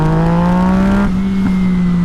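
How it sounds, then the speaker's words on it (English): A Yamaha MT-09 naked motorcycle engine runs loud and close, a steady throaty drone that climbs slightly in pitch as the throttle is worked, with no voices. "You twist the throttle, it has an immediate crack to it instead of kind of ramping into it like the Z900 does"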